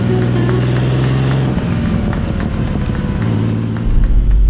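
A Porsche 944 Rothmans Turbo Cup race car driving on roads near Long Beach, its engine a loud, steady drone throughout with a low rumble swelling near the end, heard from close by with no talk.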